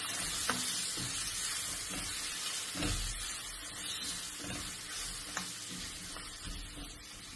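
Banana pieces frying in a hot pan give a steady close sizzle, while a spoon stirs them with soft scraping and occasional light knocks against the pan, with no talking.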